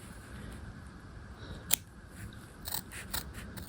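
Fabric scissors snip a slash through cloth for a bound buttonhole on a half-scale jacket, a few quiet crisp cuts with one sharper snip, close and faint.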